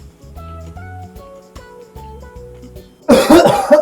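A single sharp cough bursts out near the end, loud and close, after a stretch of quiet background sounds.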